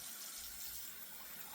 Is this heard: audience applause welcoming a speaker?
no